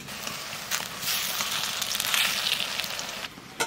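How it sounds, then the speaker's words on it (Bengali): Taro flower fritters frying in a pan, a bright crackling sizzle that swells and steadies over a few seconds, close and fairly loud, with no talk. "না আমাদের ভাজা শুরু হয়ে গেছে কিন্তু।"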